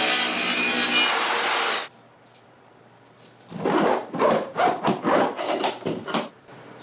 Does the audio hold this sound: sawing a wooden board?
yes